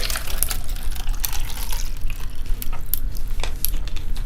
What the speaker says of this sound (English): you could really hear that water pouring there